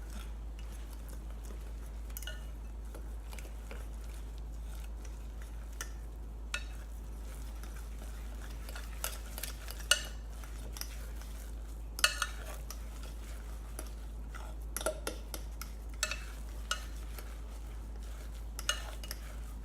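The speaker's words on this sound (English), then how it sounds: "I'm just going to use a fork. But this is mixing it up, mixing it up." A fork mixing ingredients in a small dish, light scattered clinks and scrapes spread thinly over a steady low hum, faint and irregular, with no voices.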